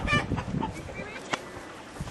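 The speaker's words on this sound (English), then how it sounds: "apparently the chickens are free ranging today" Free-ranging chickens cluck softly nearby, a few short calls over faint outdoor background noise.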